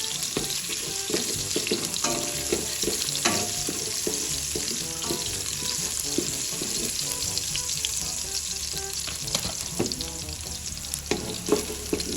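Garlic frying in a casserole pot, a loud, continuous sizzle with frequent clinks and scrapes from stirring, heard up close with no talking.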